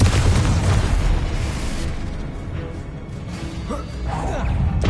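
A Confringo blasting spell goes off in Hogwarts Legacy with a loud, heavy explosion that starts at once and rumbles on, easing slightly before swelling again, with faint chirping effects near the end.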